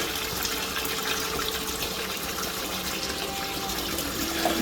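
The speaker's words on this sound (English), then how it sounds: "to wash the mushroom thoroughly." Ogogo mushrooms are washed in salted water, giving a steady close splashing and gushing of water that runs continuously without pause, with no talking.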